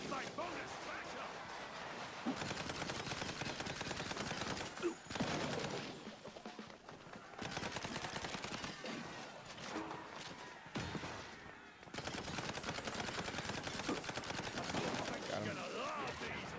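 Rapid gunfire from Mouse P.I. For Hire rattles in long continuous volleys broken by short pauses, fairly close, mixed with a busy game soundtrack and voices talking over it.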